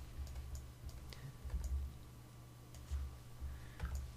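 Computer keyboard keys pressed while working in CorelDRAW, giving sparse, quiet clicks in small irregular clusters over a steady low background hum, with no talking.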